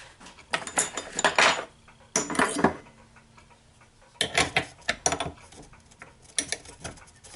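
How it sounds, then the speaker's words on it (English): Metal lathe collet holder being tightened by hand for a small Stirling hot air engine build, with a 1/8 inch collet: bursts of metallic clicking and rattling in several short clusters, close by, with no talk. "Tighten up the collet holder."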